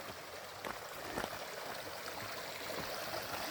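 Mountain river rushing in a forested hollow near the Lumshory waterfalls in the Ukrainian Carpathians, a steady broadband roar of flowing water with occasional gurgles and splashes, close and constant, no one talking.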